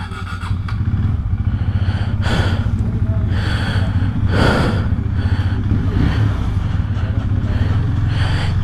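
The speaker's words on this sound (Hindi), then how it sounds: "तो चलो बाइक को स्टार्ट करते हैं" A KTM Duke 390 motorcycle engine starts and settles into a steady, loud, close idle in cold high-altitude winter Ladakh, with breathy gasps and snorts from a rider over the throb.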